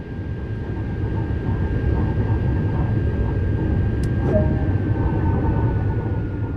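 A German LGV high-speed train running in Train Sim World 2: a constant loud rumble and rush of wheels and motors with a thin steady whine above, one brief high click partway through.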